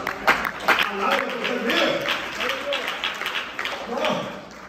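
Church congregation applauding in scattered, moderate clapping, with voices and shouts mixed through it and talk carrying over the sound.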